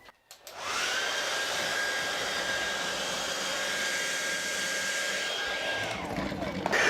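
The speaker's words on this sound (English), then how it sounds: "Okay, let's put a hairdryer on it." A hairdryer blows steadily on a small differential-drag wind turbine with a scoop, a loud constant whooshing hum with a thin whine, switched on after a brief click and running alone for several seconds.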